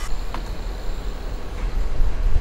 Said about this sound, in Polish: O, jedzie pociąg, ale ruch tutaj jest.